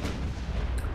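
A seven-inch naval shell strikes a warship amid gunfire in Ultimate Admiral: Dreadnoughts, a heavy, continuous low rumble with a brief hiss near the end and no voices.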